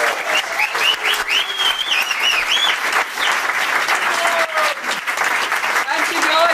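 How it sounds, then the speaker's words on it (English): Loud, sustained applause from a conference audience fills the room, dense clapping continuing steadily throughout with a few whoops and cheers rising above it. "So please can I have a massive round of applause for Ceylon."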